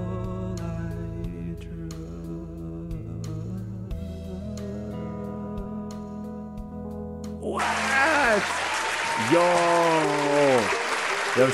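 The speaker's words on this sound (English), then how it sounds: "another round of applause" Audience applause breaks out at a live radio station performance of a song, a burst of many clapping hands that swells loud and steady after a stretch of music, with voices rising over it near the end.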